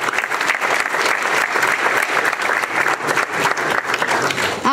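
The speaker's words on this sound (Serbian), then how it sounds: "Može aplauz." An audience applauds at a municipal day ceremony in a hall in Berane, the dense clapping sustained and loud from start to finish with no pause.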